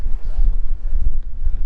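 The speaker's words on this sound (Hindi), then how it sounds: "तूफानी हवा चल रहा है।" Strong gusty wind buffets the microphone on a high, exposed mountain spot along the road to Kargil in Ladakh, a continuous low roaring rumble that swells and dips, with no voices.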